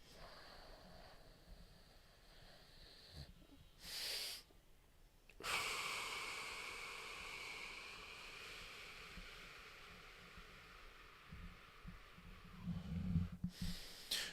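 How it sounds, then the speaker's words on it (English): A man demonstrates a breathing exercise up close: a sharp nasal inhale, a long held stretch, then a slow, drawn-out airy exhale, followed by another quick sniff near the end; no speech. "you inhale through your nose as much as you can, and then you do another sharp inhale through your nose, hold, and then you exhale all the way out slowly"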